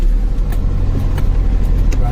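A car drives along a road in the rain, its low, steady engine rumble close and continuous throughout, with a few faint higher swishes above it.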